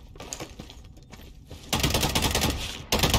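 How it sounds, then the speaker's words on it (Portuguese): Rapid bursts of gunfire in the video game Lost Light crackle in a dense clattering stream, quieter at first and then loud and sustained, broken by a brief pause. "Receba esses tiros aí, ó."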